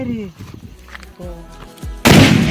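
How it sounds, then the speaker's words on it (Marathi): Diwali firecrackers in a village celebration: one sharp, loud bang near the end, preceded by people chattering and calling out nearby. "काहीच फटाके फोडतायत."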